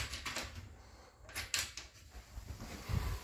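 A bifold door missing a wheel rolls roughly along its track, faint uneven scraping and clunks with a few knocks, close by and without talk.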